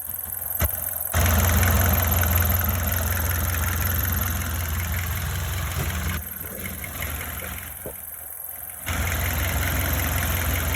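An SD23 diesel engine runs steadily at idle with a constant low rumble and a persistent high whine, close and loud throughout with no talk over it.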